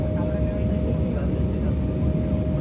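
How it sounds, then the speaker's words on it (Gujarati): A plane flying high overhead near the sea, giving a steady low engine drone that holds evenly throughout with no other clear sounds. "હવે ક્લિયર નથી આવતું કેમ કે પ્લેન બહુ ઊંચાઈ ઉપર છે."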